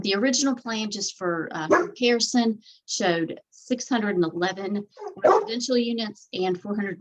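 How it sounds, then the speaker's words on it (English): A pet dog barks repeatedly in the background of a town council meeting, sharp yips breaking through while a person talks continuously over it at close range. "I apologize for my dog."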